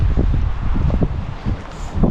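Wind gusts across a microphone at Es Canar beach, a constant low buffeting rumble that rises and falls slightly with no speech.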